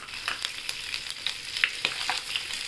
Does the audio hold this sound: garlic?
yes